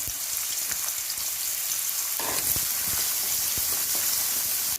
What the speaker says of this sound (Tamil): இப்போ நம்ம வந்து வெங்காயம் வதங்கின்னு இருக்குது